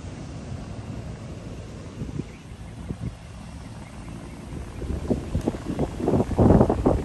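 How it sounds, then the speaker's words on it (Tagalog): Strong wind buffets the microphone on an open golf course, a steady low roar with gusts building louder toward the end; no talking. "Ang lakas ng hangin against the wind."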